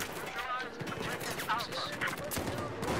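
MG4 machine gun firing in Battlefield 4, dense rattling gunfire that stays loud through the whole stretch, with gameplay sounds mixed in.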